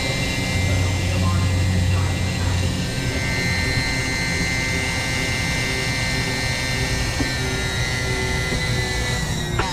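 The automatic hydraulic leveling system of a 2018 Winnebago View 24D RV runs as a steady, loud mechanical hum and whine. It continues unbroken for the whole stretch, with voices talking at times over it.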